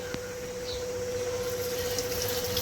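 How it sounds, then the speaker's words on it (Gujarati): Cold water runs continuously while freshly made homemade paneer is rinsed, a steady faucet-like flow with a constant tonal hum beneath it and no talking. "હવે આપણે આને ઠંડા પાણીથી ધોવી લઈશું"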